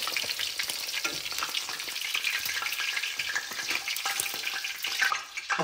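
Onion and capsicum frying in a kadai for paneer curry, a loud dense sizzle running the whole time with scraping stirs layered over it, close up, no voices.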